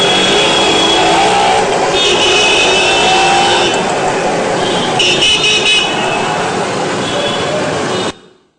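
Dense Indian street traffic heard from a street vendor's spot: a loud, constant roar of engines with repeated car horn honks and faint background voices, cutting off abruptly at the end.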